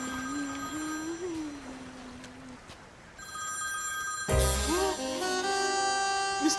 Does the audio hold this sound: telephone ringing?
yes